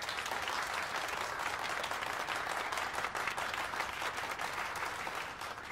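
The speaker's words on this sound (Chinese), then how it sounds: "大家掌声欢迎。" A classroom of students applauding to welcome a law-department teaching assistant, steady dense clapping from many hands throughout, close and sustained with no voices over it.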